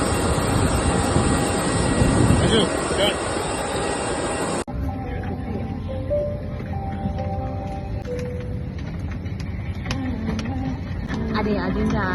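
Steady engine roar fills an airplane cabin during a flight, a dense, continuous rumble close around the listener, with people talking over it.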